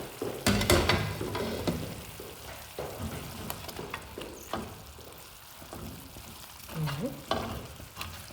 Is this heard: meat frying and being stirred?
yes